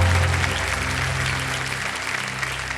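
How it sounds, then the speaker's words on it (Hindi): A studio audience on the quiz show Kaun Banega Crorepati applauds as an elderly woman contestant is welcomed, producing a steady, dense wash of clapping that holds evenly, with a low music hum beneath. "तालियां बज जाए और उनके स्वागत के लिए।"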